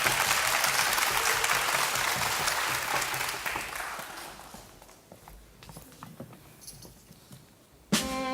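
Audience clapping for a child composer's piece at a young composers' recital in a concert hall, loud and dense at first, then thinning and fading over several seconds before a brief sharp sound at the end.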